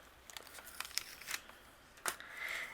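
Paper tape peeled off a card during a craft project: short, quiet tearing and crinkling bursts, a few separate pulls close up in a quiet room.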